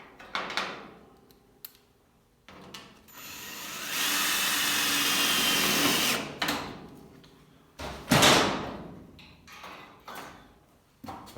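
Power drill driving temporary screws into a 25-louver hood on a 1932 Ford Tudor under restoration: a steady whirring run of about two seconds, surrounded by short clunks and handling knocks in a shop.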